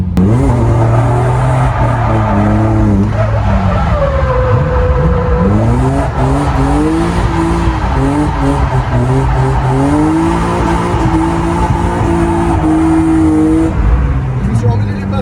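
A BMW E36 drifts at a drift event, its engine revving and shifting pitch up and down while tires squeal and skid continuously, loud and close throughout.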